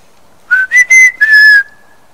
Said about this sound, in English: I'm going to try a whistle.